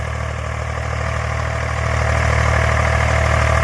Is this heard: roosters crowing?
no